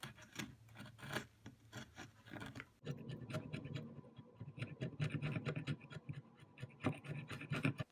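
Old filler being scraped out of wooden chair dowel joints, quiet repeated rasping and scratching strokes in an irregular rhythm, close by.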